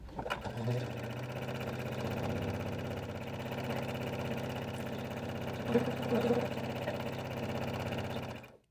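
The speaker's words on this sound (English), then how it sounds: "it's time to step to the machine and go ahead and sew all along the top edge" A sewing machine runs continuously for about eight seconds, stitching along the top edge of a fabric carry-all bag with a steady mechanical whir and rhythmic needle hum, then stops abruptly.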